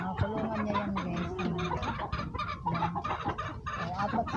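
Several chickens in a backyard coop cluck and murmur continuously up close, overlapping calls with a few sharper squawks, no talking.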